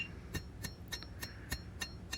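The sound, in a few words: hammer forging a steel knife bevel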